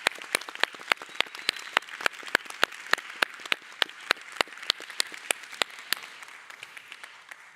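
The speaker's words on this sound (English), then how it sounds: "If we would give them a warm round of applause," Sparse applause for a panel in a conference plenary hall: a thin spread of clapping with several sharp, distinct hand claps standing out at irregular intervals, moderately loud and without speech.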